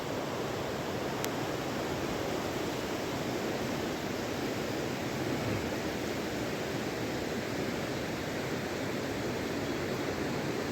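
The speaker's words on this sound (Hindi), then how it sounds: "पास ही बहती हुई है टोंस नदी, कल धारा आप सुन सकते हैं।" Steady broadband rush of the Tons river flowing close beside a mountain road near Mori in Uttarakhand's hills, a constant roar of water that stays even and loud throughout with no voices.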